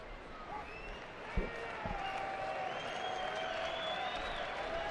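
Baseball crowd at a New York Mets versus Arizona Diamondbacks game cheering a strike, a steady distant roar of many voices and scattered applause, with a couple of brief thumps near the start.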